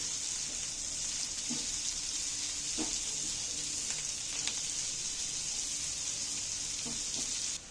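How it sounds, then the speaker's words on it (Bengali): Chopped onions frying in a pan for an egg dish, giving a steady close sizzling hiss broken by a few soft scraping taps as they are stirred, with no talking. "পেঁয়াজগুলো আমি একটু নাড়াচাড়া করে একটু ভেজে যাবো"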